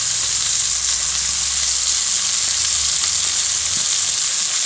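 Large prawns frying in a pan for prawn and cauliflower pulao, giving a steady, loud, even sizzle that hisses continuously with no pauses.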